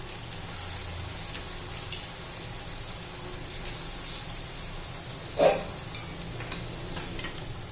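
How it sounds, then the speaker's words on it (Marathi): Food frying in oil over a low gas flame gives a steady soft sizzle, with a few brief clinks and stirring sounds from a utensil. "मंद गॅसवर आपण घ्यायचे तळून ते."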